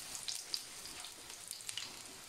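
Quiet, steady sizzling of fluffy chicken patties frying in a pan, with faint crackles and pops scattered throughout.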